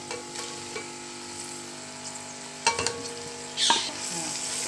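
Onions fry in oil in a pan for a Kabuli pulao, before tomatoes and green chillies are added. Steady close sizzling runs throughout, with a couple of louder stirring scrapes near the end.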